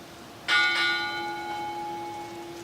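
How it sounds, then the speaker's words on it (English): A ship's bell strikes twice in quick succession at a US Navy retirement ceremony, ringing out with a bright metallic tone that hangs and slowly fades over a quiet background hum. "Bell ringer. Sound 2 bells."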